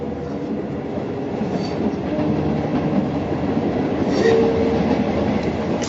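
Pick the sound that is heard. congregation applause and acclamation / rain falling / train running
train running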